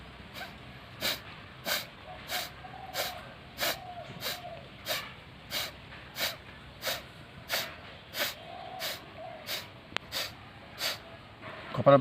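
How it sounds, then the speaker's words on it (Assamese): A steady series of sharp, forceful nasal exhalations from kapalbhati breathing, evenly spaced about every second, close and alone, each a short puffing snort. "সেইটো মই কপালভাতি কৰি দিছোঁ।"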